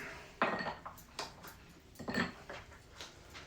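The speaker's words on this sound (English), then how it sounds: "I'm going to add in my ice here." Ice goes into a cocktail shaker holding lemon juice for a Paper Plane, a few close, clattering knocks and rattles in quick, uneven bursts.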